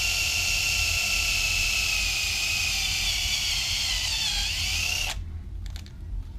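A drill bit bores into a sticky lead bullet, a steady, loud, whining grind with a high squeal that holds for about five seconds and then stops abruptly, leaving faint clicks.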